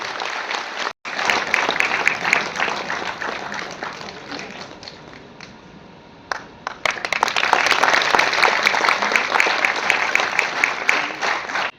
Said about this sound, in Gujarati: ખૂબ જોરદાર તાળીઓ થવી જોઈએ.